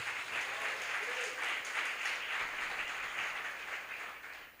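A church congregation at a Lord's Supper service claps in sustained, dense applause with a faint voice beneath, slowly tapering off at the close.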